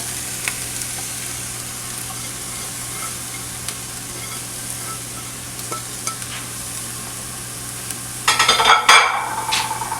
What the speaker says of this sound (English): I have a tablespoon of oil in a skillet at medium heat, and it's already warm, so I'm gonna go ahead and add the peppers.